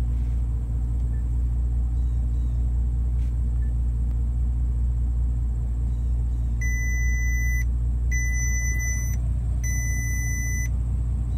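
A Bentley Continental SuperSports sounds its tire pressure warning when maximum speed mode is selected with low tire pressures. Three evenly spaced electronic chimes ring out over the car's steady low engine rumble.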